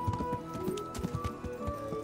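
Horse hooves clip-clopping in a steady trotting rhythm while riding in the medieval game Kingdom Come: Deliverance, fairly close and moderately quiet, alone without talk.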